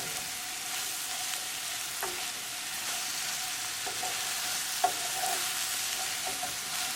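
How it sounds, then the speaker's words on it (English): Scrambled eggs with pre-cooked lobster tail cook in a pan over a medium gas flame, giving a steady, soft sizzle with a few faint clicks and stirring scrapes throughout. "So cook on a medium gas, and as you see, the eggs don't take that long to cook."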